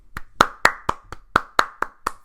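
A single person claps their hands eight times in a slightly uneven rhythm, each clap crisp and close in an otherwise quiet room.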